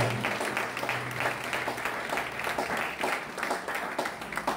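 A church congregation claps and cheers together, a dense, steady wash of applause that carries on throughout.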